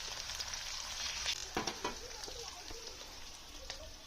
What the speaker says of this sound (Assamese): পিঁয়াজখিনি এতিয়া ধুনীয়াকৈ ভাজি ল'ম।